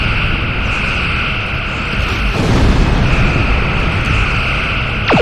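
Torpedoes striking a starship in the video game Star Trek Online, a loud roaring blast of noise that builds midway and stays dense and close, ending with a short descending tone.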